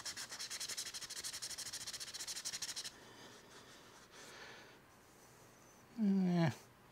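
Sandpaper rubs against a lathe-turned wooden piece in a fast, even rhythm for a few seconds, close and fairly loud, before it stops and other faint sounds follow.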